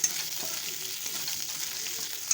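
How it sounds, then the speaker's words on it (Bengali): A ground spice paste of ginger, cumin, green chilli and tomato fries for chana dal, making a continuous close sizzle with fine crackles and a few light stirring scrapes; no one speaks. "এখানে ছোলার ডালের জন্য একটু মশলা কষাচ্ছি আদা জিরে কাঁচা লঙ্কা একটু টমেটো দিয়ে বেটে নিয়ে তাই করছি"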